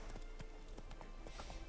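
Horse hooves galloping in The Witcher 3 video game, quick rhythmic clip-clop beats at a steady canter, faint under a soft background bed with no clear talk.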